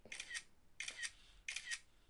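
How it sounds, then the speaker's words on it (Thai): A Japanese-market iPhone 12 Pro still fires its camera shutter sound with silent mode switched on, giving three crisp, evenly spaced double clicks, close and fairly quiet, with no talking. "เดี๋ยวลองดูนะเสียงชัตเตอร์ ชัตเตอร์ถ่ายรูปปกติมันจะปิดเสียงไม่ได้ใช่ไหม"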